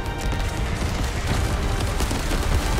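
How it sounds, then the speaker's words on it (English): Dense sustained gunfire in the sci-fi shooter The First Descendant during a boss fight against a Colossus, a loud continuous barrage of overlapping shots and impacts with no pause. "We're all shooting."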